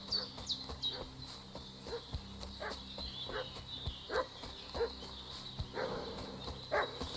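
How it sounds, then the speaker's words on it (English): A dog in Kingdom Come: Deliverance 2 barks repeatedly at a moderate distance, short sharp yaps spaced irregularly over a steady buzzing ambient drone of insects in the background. "What's that dog making such a fuss about?"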